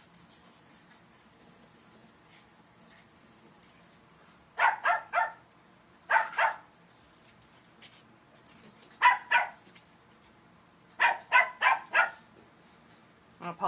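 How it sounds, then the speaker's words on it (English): Dogs barking while playing together indoors, several bursts of sharp yips and barks in clusters, fairly close, separated by quiet stretches. "My dogs like to bark when they play with one another."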